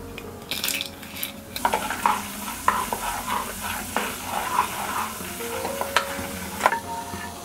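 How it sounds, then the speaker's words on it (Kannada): Mustard seeds and chana dal crackle in hot oil in a pan for vangi bath. The sizzle is close and busy, with repeated metallic clinks of a spoon stirring against the pan. "ಎಣ್ಣೆ ಕಾದ ಮೇಲೆ ಅದಕ್ಕೆ ಸಾಸಿವೆ ಹಾಕೊಳ್ತಾ ಇದ್ದೀನಿ 1 ಟೇಬಲ್ ಸ್ಪೂನ್ ಆಗೋಷ್ಟು ಕಡಲೆಬೇಳೆ ಹಾಕೊಳ್ತಾ ಇದ್ದೀನಿ"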